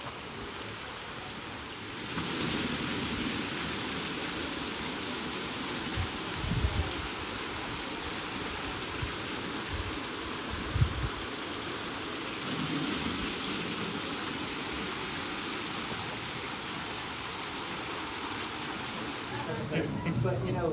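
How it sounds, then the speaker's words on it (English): Steady rushing water pours onto the wheel of an old 1800s corn-grinding gristmill, a broad continuous roar with occasional low thumps and splashes, close and unbroken throughout. "They can also control how much water gets put on the wheel,"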